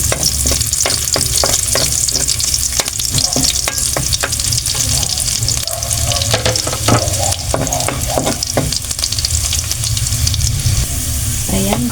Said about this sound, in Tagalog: Igisa na natin tong ating bawang.